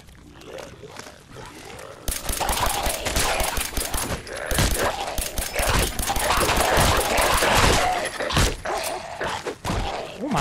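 A dog attacks during a Fallout 4 firefight on PC, with rapid automatic gunfire bursts and sharp barks and snarls over game noise, loud and close, the shooting thickest in the middle and a voice speaking at times.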